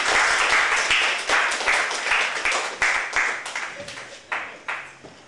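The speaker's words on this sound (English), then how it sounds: "Please, a warm round of applause for Michael V. Smith." Audience in a small art gallery applauding a poet before a reading, a modest crowd clapping close by in uneven surges that gradually thin out into fewer, separate claps.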